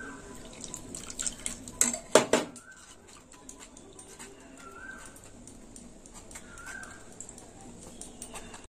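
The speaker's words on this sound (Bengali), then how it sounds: "একটু জল দিয়ে দেবো।" Water is poured into a cooking pot while making a stem-and-potato curry, a soft, fairly faint splashing with a brief louder burst early on, while birds coo in the background.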